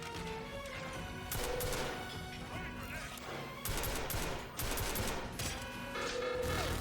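Sentry guns fire in the 2012 James Bond shooter 007 Legends, loud sustained bursts of automatic gunfire with crashing impacts, coming in several waves.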